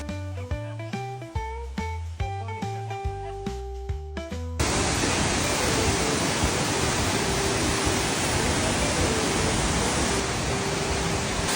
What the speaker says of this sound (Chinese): 大老远的就听到了瀑布的声音